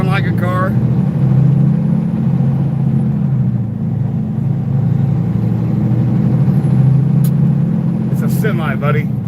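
A semi truck rumbles steadily nearby, its engine a loud, constant low drone that holds throughout, with someone talking over it in brief phrases.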